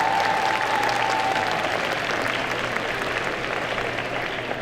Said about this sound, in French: On applaudit bien fort Pix, s'il vous plaît.